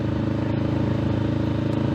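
A parallel-twin motorcycle exhaust burbles steadily and up close, an even, throbbing low pulse that holds constant throughout without any voices.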